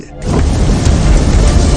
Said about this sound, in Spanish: Con cada explosión, toda la estructura se sacudía.